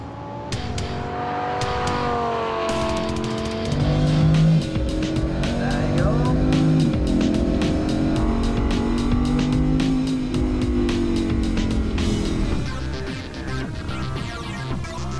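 A Lamborghini supercar tears around a racetrack, its engine climbing through loud rising revs and gear changes, with tire squeal and a voice briefly heard over the steady roar.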